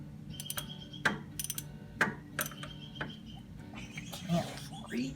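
Ratchet wrench clicking while working on a thermostat on a 1965 Ford, several short bursts of quick clicks spread across the clip over a low steady hum, close and moderately loud.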